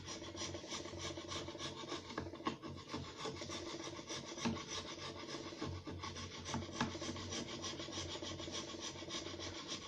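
A screwdriver ground perfectly flat, used as a scraper in a workshop, rasps steadily back and forth for about ten seconds in repeated close scraping strokes with no voices.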